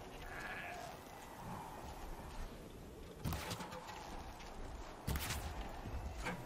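A goat in the video game Horizon Zero Dawn bleats a few times over a steady background of game ambience, the calls moderately close and mixed with brief louder impacts and bursts.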